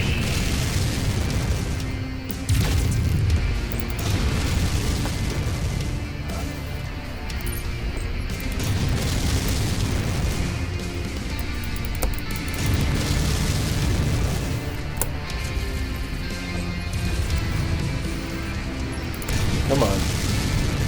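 Long-range missile barrages thud and boom in the mech combat game MechWarrior 5: Mercenaries, a dense continuous rumble of overlapping blasts and bursts with someone talking over much of it.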